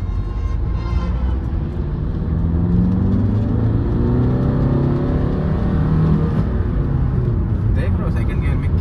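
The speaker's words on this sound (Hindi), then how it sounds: "देख लो सेकंड गियर में क्या आवाज़ करती है। थोड़ा नॉइजी है ये इंजन" A five-year-old Maruti Brezza engine pulls in second gear on a highway, a loud, constant drone with rising whine and road roar from inside the cabin, slightly noisy.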